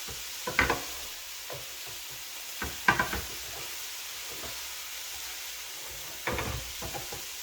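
Bean sprouts tossed with salt in a bowl or pan, a few short rustling, clattering bursts of mixing separated by quiet, close and fairly soft, with no talk.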